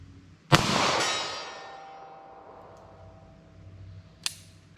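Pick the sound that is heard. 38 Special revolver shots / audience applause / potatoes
38 Special revolver shots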